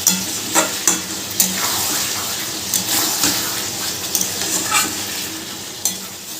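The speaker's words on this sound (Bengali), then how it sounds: "জোরে দিয়েই মাংসটা খুব ভালো করে কষতে কষতে একেবারে মাংসটা শুকিয়ে ফেলবো" Desi chicken stir-fried in a pan over a high gas flame gives a continuous sizzle, with irregular scraping and clattering strokes from the stirring spoon close by.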